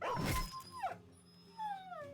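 A war dog in a turn-based battle game lets out a loud yelp, then drawn-out falling whimpers and whines, close and clear with no voices over it.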